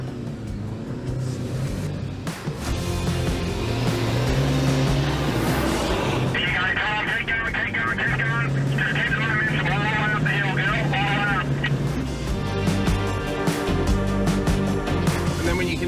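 A vehicle driven flat out through soft sand on Moreton Island, its engine roaring loud and steady throughout with a rising whine partway through, while voices talk over it.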